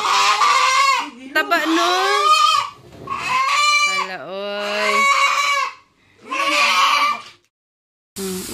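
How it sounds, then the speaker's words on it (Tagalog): Loud, agitated chicken squawks and clucks in several bursts, close by, as the chicken is caught for slaughter, with people talking in Tagalog in between. "Na umiiyak yung manok ay."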